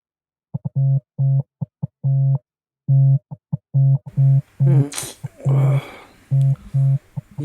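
A phone rings late at night with a short electronic tone pulsing in a steady rhythm, loud and close; a voice breaks in briefly partway through before the rings continue.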